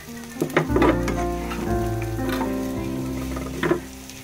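Chopped onion frying in butter in a pan gives a soft sizzle under clinking and stirring, with a few sharp scrapes and taps on the pan near the start and end.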